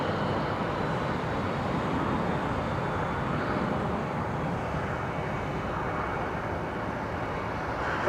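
A Sun Country airliner taking off from Minneapolis–Saint Paul airport, bound for Toronto, heard as a steady broad engine roar that holds constant and fairly loud throughout, with no clear rise or fade.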